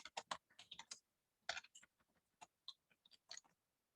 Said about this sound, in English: typing the word domain.